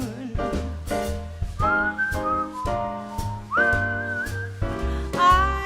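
A bright whistled melody rises over a live jazz combo at a vocal jazz club performance, the tune sliding and wavering above steady bass and drum hits, close and clear with no talking.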